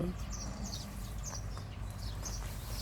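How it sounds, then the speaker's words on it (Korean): Various birds, magpies among them, sing in a house garden, with brief chirps and calls coming steadily from a distance over a constant low outdoor rumble. "여러 가지 새들의 노랫소리가 아주 듣기가 좋습니다."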